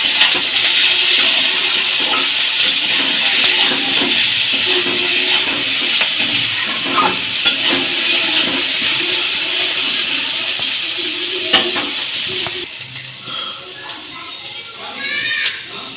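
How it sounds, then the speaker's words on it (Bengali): Potatoes and bamboo shoots sizzle steadily in a frying pan, a dense continuous hiss with scattered crackles, dropping away near the end to quieter stirring clatter. "এবারে আমি বাঁশের মূলটাও এর মধ্যে দিয়ে দেবো, দিয়ে ভেজে দেবো"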